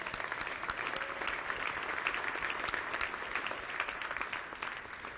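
An audience at a SugarCon 2015 conference talk claps in steady, dense applause that runs the whole time without a break.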